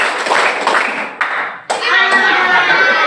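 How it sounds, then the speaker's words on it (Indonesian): A classroom of children clapping a patterned rhythm together on their teacher's cue in an Islamic religious education lesson, with sharp bursts of claps, a brief pause and then a denser round that carries on to the end. "Oke, tepuk 3 1 kali."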